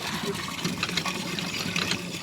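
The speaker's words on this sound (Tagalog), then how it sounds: "Dumadaloy pa rin yung tubig." Floodwater left by a typhoon keeps flowing, a steady rushing, gurgling wash close by, with voices faintly underneath.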